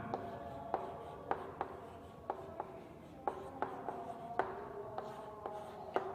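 Pen or chalk writing out a chemical formula in a Class 9 science lesson on atoms and molecules, heard as a series of sharp taps and strokes, moderately close and with no talk over it.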